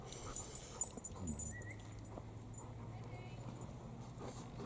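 A dog whimpers faintly in a quiet outdoor setting, giving a short, thin whine over soft background noise.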